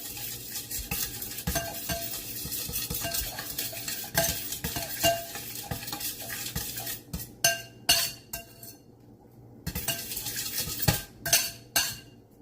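A utensil stirs gochujang into a Korean BBQ pork marinade in a bowl, giving repeated scraping clinks against the dish with a faint sizzle underneath, then a few sharper, spaced knocks toward the end.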